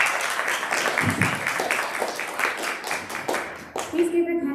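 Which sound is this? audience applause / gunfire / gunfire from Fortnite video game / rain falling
audience applause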